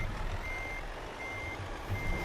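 Reversing beeps sound in steady, evenly spaced tones over a low truck engine drone as a truck backs a trailer into a parking spot in a driving simulation game.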